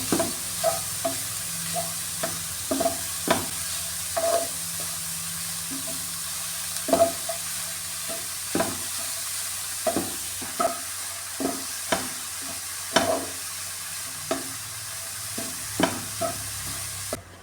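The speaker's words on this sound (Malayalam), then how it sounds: "ക്യാരറ്റ് നെയ്യിലിട്ട് നന്നായിട്ട് ഒന്ന് വഴറ്റി എടുത്തിട്ടുണ്ട്" Grated carrots sautéing in ghee over a medium flame for carrot halwa, with a steady soft sizzle under repeated clacking strokes of a spoon stirring the pan, close and fairly quiet, no voices.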